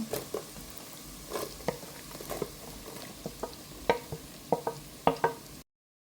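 Onions and green chillies fry with crushed ginger and garlic in a pan for vegetable curry, giving an uneven crackle of popping spatters and stirring taps over a soft sizzle.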